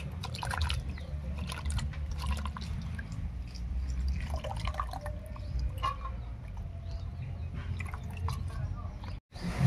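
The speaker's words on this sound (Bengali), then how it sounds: "আমি 3-4 বার জল পাল্টে খুব ভালো করে ধুয়ে নেব" Drumstick (sajne) flowers are washed in water, with steady close splashing and dripping that runs throughout, briefly dropping out near the end, while faint background voices and occasional clucking from fowl are heard.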